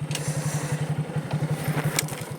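A motorcycle engine idles steadily with an even low, pulsing throb while being pulled over on a rainy off-road forest trail, heard close and alone throughout.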